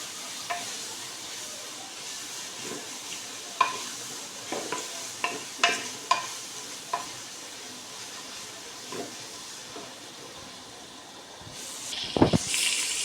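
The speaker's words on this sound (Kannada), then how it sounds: "ಒಂದು ಈರುಳ್ಳಿ ಚೆಂದ ಮಾಡಿ ಫ್ರೈ ಮಾಡುವ." Onion frying with curry leaves and a small green chili in a pan, with a low sizzle under scattered spoon clicks and stirring scrapes, then a louder clattering rustle near the end.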